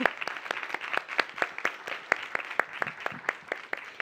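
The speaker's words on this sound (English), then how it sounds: "Time to applause." Scattered applause from a small audience closing a conference session, a steady patter of claps with a few sharper ones standing out, lasting throughout.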